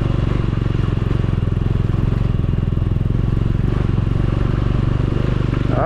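Bajaj Dominar motorcycle engine pulling steadily in second gear on a rough mountain road, a loud, continuous close-up drone with a rapid even firing pulse throughout and no talk over it.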